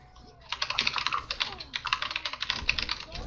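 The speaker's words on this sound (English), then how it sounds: "I'm typing." Rapid typing on a computer keyboard during an Overwatch match, a close, busy burst of clicking keys that starts after a short pause and carries on steadily, with faint game sounds and voices underneath.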